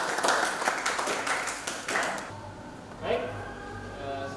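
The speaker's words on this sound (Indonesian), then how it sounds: "Tepuk tangan." A class of students claps hands together in a classroom lesson, a short burst of fairly loud clapping for about two seconds, then a voice speaks afterward.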